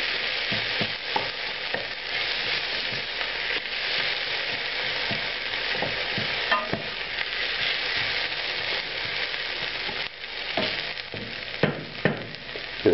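Onions for a sweet potato curry sizzle steadily in a pan over lowered heat, a continuous close frying hiss broken by scattered sharper pops and a few stirring scrapes, with no voices.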